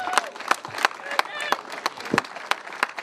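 Applause at the Rotax Max Euro Challenge 2012 karting trophy presentation in Wackersdorf, a run of distinct, fairly loud claps at a modest pace, with a commentator talking over them.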